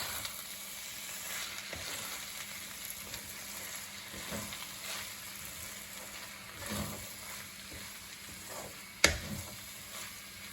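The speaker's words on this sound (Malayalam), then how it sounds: "ഒരു സ്പൂൺ നെയ്യ് കൂടെ ഒഴിച്ചു കൊടുക്കാം ഒരു ചെറുതായിട്ടൊന്ന് ഇളക്കി കൊടുക്കാം" Tomato rice in a pan, with a spoonful of ghee added and gently stirred. A soft, steady sizzle runs throughout under occasional scraping stir strokes, ending in a sharper knock near the end.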